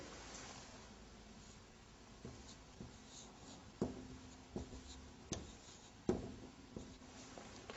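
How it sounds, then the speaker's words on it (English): Quiet strokes and taps of writing on a board during a lecture, a handful of short scratchy marks spaced irregularly over faint room hiss. "I write here"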